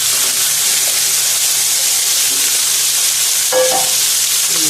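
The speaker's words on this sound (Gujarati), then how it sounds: "એને આપણે હવે થોડીક વાર ફ્રાય કરીશું." Potatoes fry in hot oil in a pan with a loud, steady, hissing sizzle that stays even throughout, plus one brief clink of a utensil near the end.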